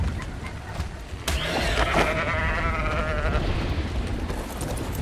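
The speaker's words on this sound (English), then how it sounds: "That's a max level sheep with a baby." A max-level sheep in the survival game Ark bleats once, a wavering, drawn-out baa heard close and clear over a low ambient background.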